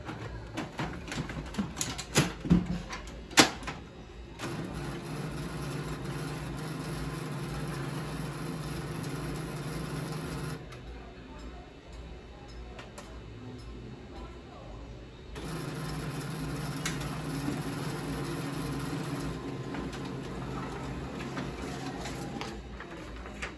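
An HP LaserJet 2015 printer runs with a recycled 53/49 toner cartridge, giving a steady mechanical whir and hum with a brief pause mid-run, clicks and rattles near the start, close and moderately loud.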